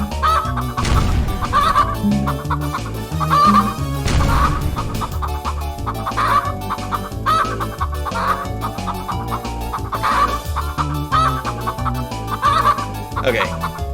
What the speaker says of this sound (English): I really wish I could turn the chicken balking off